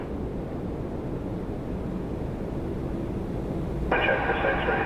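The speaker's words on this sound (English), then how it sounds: "737-800 coming in next, WestJet 632 from Calgary" A WestJet Boeing 737-800 inbound from Calgary to Toronto Pearson, heard as a steady, broad jet roar that stays fairly level, with a crackly radio voice cutting in near the end.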